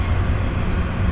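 A long intermodal freight train hauled by two engines rumbles past a riverside campsite on the Tug Fork River, a steady, loud low roar with no gaps.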